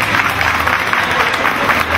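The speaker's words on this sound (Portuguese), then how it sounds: "Cadê as palmas?" A festival crowd at an outdoor folklore street festival with sertanejo duos claps in a brief, dense burst of applause, loud and close, with voices mixed in.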